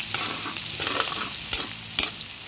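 Onions sizzle loudly in rendered pork fat, stirred with a few sharp scrapes of a utensil against the pan.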